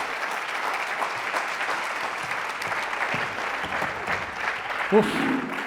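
Conference crowd applauds Vanessa with dense, sustained clapping that fills the room evenly, with a voice briefly breaking through near the end.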